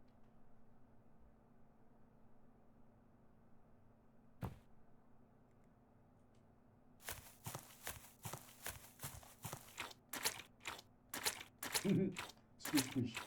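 Squishy footstep effects triggered while walking through a footstep zone in a game-engine demo, a run of soft, wet steps in quick rhythm over a low background hum, following a quieter stretch with one sharp tap.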